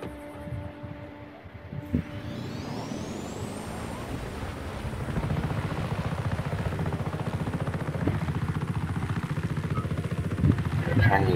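A helicopter in the open-world action game Just Cause 3 drones with a steady, thick rotor chop and engine whine that holds loud throughout, with a brief rising tone and other game noises layered over it.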